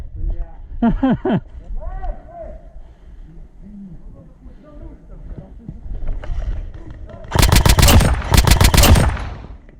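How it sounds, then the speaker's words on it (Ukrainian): Airsoft guns firing in bursts during a skirmish game, with rapid automatic volleys loud near the end and a short burst early on, amid players talking. "По мені свої, походу, стріляють."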